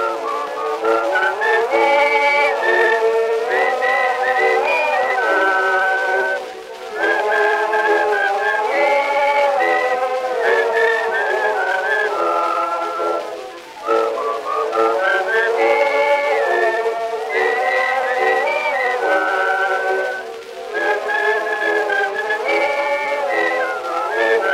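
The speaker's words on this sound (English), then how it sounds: "Will the audience please join me in whistling the chorus?" Several people in an audience whistle a lively melody together in unison, the chorus of an early 1900s song, long and continuous with brief pauses between phrases, and no talking.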